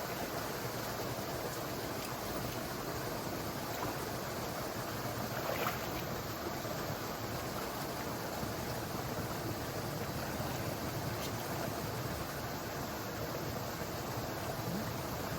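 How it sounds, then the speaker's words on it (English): Water keeps running steadily at a beaver trapping site in a creek, a constant low rushing flow with no talk over it. "Water's still running."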